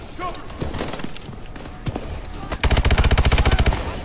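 KF5 gunfire in the Call of Duty: Advanced Warfare campaign, a loud rapid automatic burst of about a dozen close shots in steady rhythm near the end, following quieter game noise and talk earlier.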